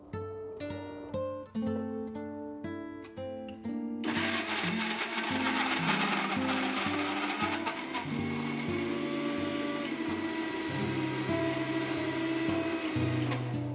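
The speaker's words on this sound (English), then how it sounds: "we will make a fine paste of meat portion of 500 grams prawns in a mixer grinder" A mixer grinder grinds the meat of 500 grams of prawns, heads, tails and shells removed, into a fine paste, giving a loud, steady whirring roar that runs unbroken for several seconds, with tonal notes layered over it.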